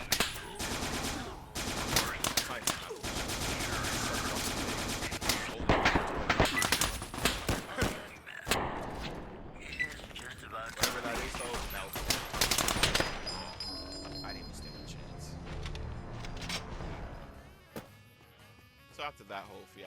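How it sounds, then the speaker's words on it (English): Rapid machine gun fire from an enemy's arm-mounted gun in a modded game of Fallout New Vegas, dense bursts of shots loud and close for most of the stretch before easing off, with speech-like sound also present. "He has like a mounted machine gun on his arm."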